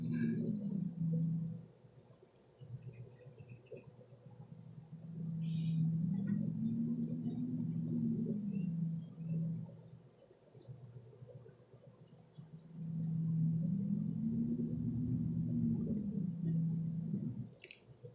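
Ambient soundscape from Deckard's apartment in Blade Runner: a low, droning rumble swells and fades in long waves, with a soft, eerie rising-and-falling woo tone and faint distant crackles, steady and moderately quiet.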